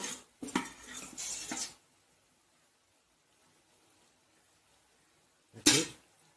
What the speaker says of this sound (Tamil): மஞ்சத்தூள் சேர்த்து நல்லா கலரி விட்டுட்டு வதக்க வேண்டியது.